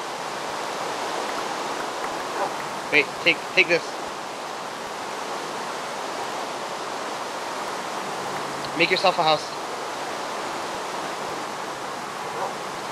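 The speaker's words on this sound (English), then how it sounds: "Turn your game volume down because the rain's gonna be like over really loud" Rain falls steadily in the video game Minecraft as a constant loud hiss, with brief clicking game sounds on top. A person talks briefly over it.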